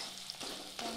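Sliced onions frying in oil for biryani birista, a close, soft continuous sizzle with faint stirring bumps in a quiet kitchen.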